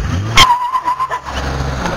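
Cartoon-style car driving sound effect: a brief motor hum with a sustained mid-pitched drone lasting about a second, set against a steady low background rumble, with no talking.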